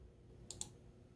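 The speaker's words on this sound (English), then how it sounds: "Just clicking around here." Two quick, faint computer mouse clicks, about a tenth of a second apart, over a low room hum with no talking.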